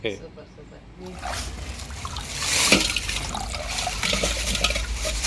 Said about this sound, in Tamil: மீனை நல்லா க்ளீன் பண்ணிவிட்டு நாலு தடவை அலசிட்டேன்